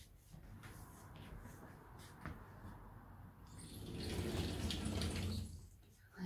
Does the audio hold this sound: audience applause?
no